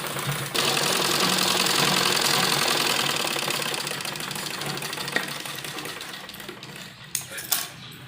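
A sewing machine stitches a salwar seam in a rapid, steady mechanical whir that runs for several seconds, then slows and fades, ending in a few faint clicks and knocks.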